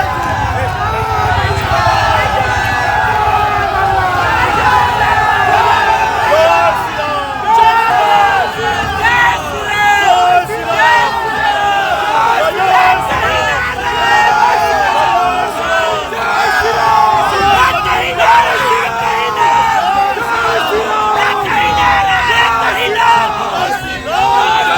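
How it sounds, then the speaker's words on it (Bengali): Large crowd chanting and shouting political slogans during a nomination filing in Durgapur, West Bengal, with rival party supporters trading slogans; loud, dense, continuous massed yelling with rhythmic chant bursts throughout. "তৃণমূলের তরফে দেওয়া হলো স্লোগান, যা ঘিরে উত্তেজনা তৈরি হলো। পাল্টা স্লোগান দিল বিজেপিও।"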